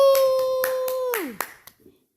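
A little girl claps her hands close by, about seven quick, evenly spaced claps over a sustained vocal whoop that slides down in pitch, then fades to silence.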